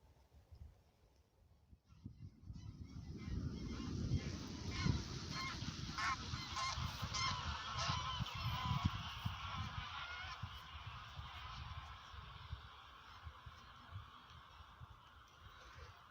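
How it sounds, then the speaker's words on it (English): A vast flock of thousands of greylag geese honks continuously, a dense, overlapping clamour that swells after a quiet start and stays loud and layered throughout. "I don't know how many thousand grey-lag geese are in amongst that lot that you can hear."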